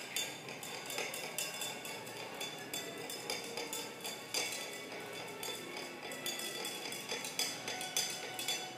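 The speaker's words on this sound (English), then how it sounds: "And now stir it until it dissolves." A spoon stirs salt into a container of water until it dissolves, giving a steady run of light clinks and taps against the sides, close and fairly quiet, with no talking.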